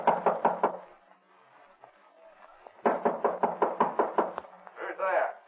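In a radio drama, a fist knocks hard on a bolted door in two rapid series of close, loud raps, separated by a quieter stretch with murmured voices.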